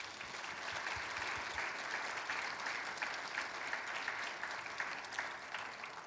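A church congregation applauding during a Wednesday service, dense sustained clapping from many people at moderate distance, an even roar of hands with no talking over it.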